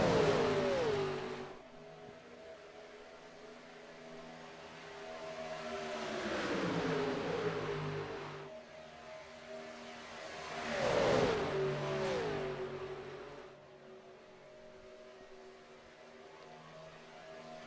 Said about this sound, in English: listen to these Gen 4 X-Pipe race cars sing around Talladega Superspeedway.